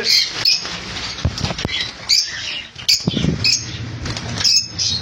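Caged lovebirds, including lutino, rosy and blue birds, flutter their wings in several short rustling bursts, mixed with sharp high chirps up close.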